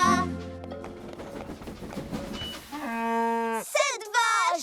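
Cows moo in a Thomas and Friends cartoon, a long, steady, loud bovine lowing that rises near the end into a wavering bleat-like call, heard over music and cartoon voices.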